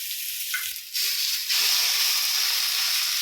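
Tomatoes and onions sautéing in a pan for a cauliflower thokku, a hissing sizzle that is quieter at first and then swells into a loud, steady fry with no voices.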